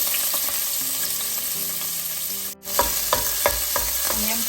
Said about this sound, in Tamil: நான் இதுக்குள்ள பட்டை ஏலக்காய் கராம்பு சேர்க்கிறேன் அதோட ரெண்டு ரம்ப இலையும் சேர்க்கிறேன் அடுத்தது இந்த உள்ளி இஞ்சியை சேர்ப்பேன்